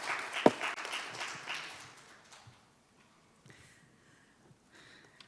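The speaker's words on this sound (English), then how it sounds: "Please welcome with a big round of applause." Audience applause welcomes the keynote speaker at the 2022 Jeju Forum conference, a dense burst of clapping with one sharp near clap that fades away within about two seconds, leaving quiet room tone.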